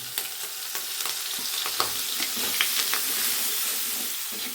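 A ground spice paste of coriander, cumin and Kashmiri chilli powder mixed with water hits a hot kadai, producing a bright hissing sizzle with bubbling crackle and light stirring scrapes throughout.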